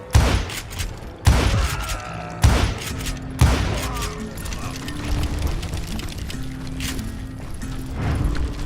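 Gunfire in the Wild West shooter Call of Juarez: Gunslinger: several loud, sharp shots spaced about a second apart, each with a booming tail, followed by a denser stretch of game action and music.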